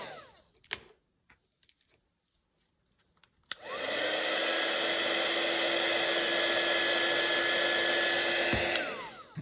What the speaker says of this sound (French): un peu de gaine thermo maintenant et on va chauffer